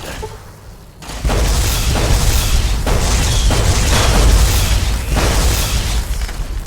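A heavy gun firing explosively in Fallout New Vegas, Old World Blues, with several loud booming blasts in quick succession after a quieter opening second, each one followed by a rumbling tail.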